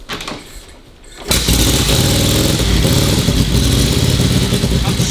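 Vintage Harley-Davidson motorcycle engine firing up after about a second of quiet, then running loud and lumpy on too much choke with an uneven, loping idle throughout.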